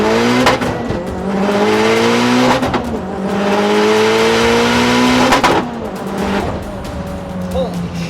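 A tuned 500 WHP all-wheel-drive Mitsubishi Evo with turbo and water-meth injection pulls hard, its engine note rising steadily through several gears with brief breaks at each shift, loud and close from inside the cabin.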